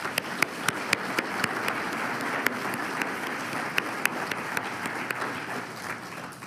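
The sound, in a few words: audience applause welcoming board members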